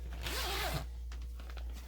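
A zipper on a large bag is pulled open in one long, quiet, close-up stroke, followed by a few faint rustles and ticks.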